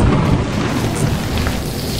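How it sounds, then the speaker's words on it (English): Thunder from a lightning strike in Lethal Company, a loud, dense rumble under heavy rain that fills the whole clip with no one talking. "It's metal, so you got struck by lightning."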